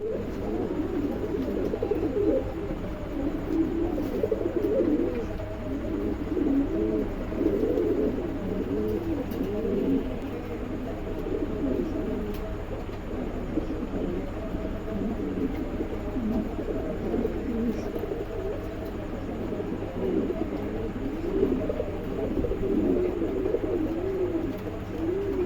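Pigeons in a pet pigeon sale setting, including exhibition homers, coo steadily and nearby, a low, throaty rolling murmur layered from several birds over a faint constant hum, with no talking.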